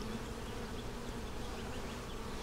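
Forager bees swarming at the entrance of a deep eight-frame hive make a dense, continuous buzz that holds at a steady, fairly loud level throughout, with no voices.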